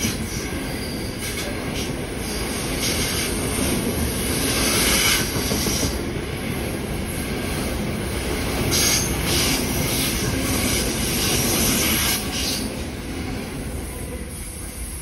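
Sydney-bound grain train hauled by three locomotives passes steadily and close by for the whole stretch, with continuous rumbling wheels, faint squeal and rattling wagons over a broad wash of noise.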